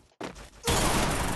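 Gunfire in the Free Fire battle royale game, a short burst of shots cracking in after a brief silence, then a dense, loud rattle of rapid fire that fills the rest of the moment.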